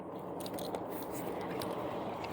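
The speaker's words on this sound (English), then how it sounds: "Can't chew the giggle ball, dude." A dog gnawing on a giggle ball toy up close, giving steady crunchy biting and chewing sounds with small squishy clicks over a few seconds.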